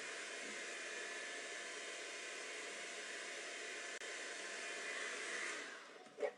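A hair dryer blows continuously at an even, fairly quiet level, a smooth airy whoosh lasting several seconds, with a short click and bump as it is switched off at the end.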